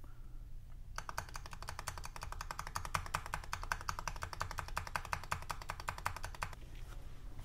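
Typing on an iLovBee i61 budget mechanical keyboard: a fast, continuous run of crisp, close clacks, with backspace and enter keys pressed. The keystrokes go on for several seconds and then stop, with no voice.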